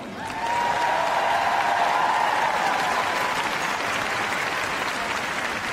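Sustained applause and cheering from a large indoor arena audience at Crufts 2018 for an RAF display team, a dense steady roar of clapping with a faint higher whistle or cheer early on, continuing unbroken throughout.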